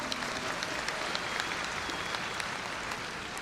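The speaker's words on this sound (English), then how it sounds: "you can applaud that one" A graduation commencement crowd applauds continuously, a dense even wash of many hands clapping at fairly low level from start to finish.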